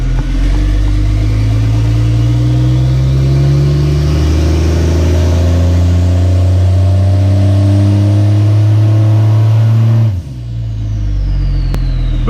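A race truck's engine idles loud and close after being shifted into four-wheel drive and drive, a deep steady rumble with slight wavering pitch that cuts off abruptly, leaving a quieter low hum.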